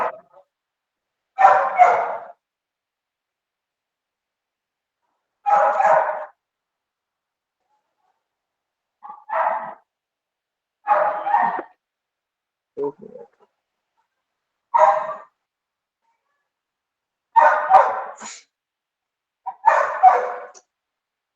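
Several dogs bark in separate bursts, roughly eight in all, spaced a few seconds apart across about twenty seconds with near silence between them. The barks are clear and moderately loud, and one short spoken phrase comes through.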